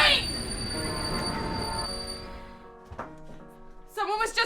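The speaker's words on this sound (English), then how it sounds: "Stop the train!" A passenger train rumbles along with a high metallic wheel squeal, loud at first and then fading out, before a voice is heard at the end.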